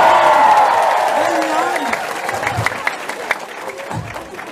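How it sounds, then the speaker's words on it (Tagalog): A crowd applauds loudly and steadily, the clapping fading slightly toward the end, with some voices mixed into the noise. "Palakpak!"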